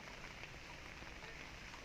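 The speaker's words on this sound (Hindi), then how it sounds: "लगातार बारिश हो रही है" Steady rain falls continuously at the Tadoba tiger reserve in Chandrapur district, Maharashtra, an even wash of pattering on surfaces, soft and unbroken throughout.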